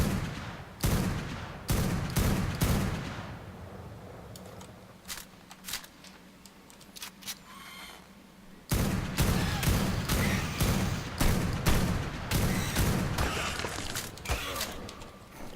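A shotgun fires pellets at enemies in a video game, with heavy booming blasts in quick succession, then a quieter lull with scattered thuds before a second barrage of loud repeated shots.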